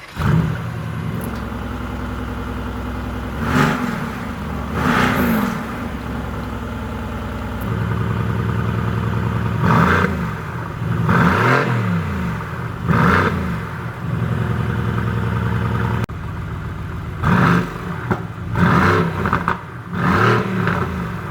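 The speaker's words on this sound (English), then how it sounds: "an awesome sounding quad exhaust" A 2020 Mercedes-AMG GT R with quad exhaust revs repeatedly, sharp throttle blips rising and falling in bursts over a steady idle, loud and close.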